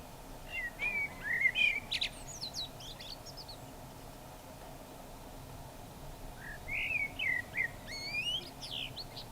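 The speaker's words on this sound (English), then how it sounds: "just saw a blackbird singing on a post" A blackbird sings from a post in a small village on Tenerife, with two bursts of fluting, warbling phrases separated by a quiet pause, moderately near over faint outdoor background noise.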